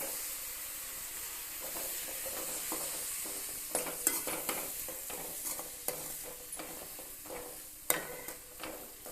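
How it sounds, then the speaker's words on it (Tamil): Onions sauté in a pan with a steady, close sizzle, broken by scattered spatula scrapes and taps that grow more frequent midway, with no talking. "பார்த்தீங்களா வெங்காயம் எப்படி வதங்கிருக்குன்னு?"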